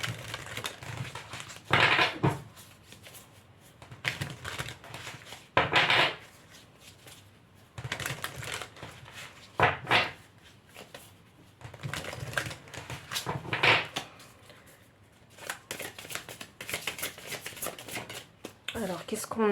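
Tarot cards are shuffled and drawn in a spiritual guidance reading, with soft papery riffles and slaps recurring in bursts between stretches of someone speaking French.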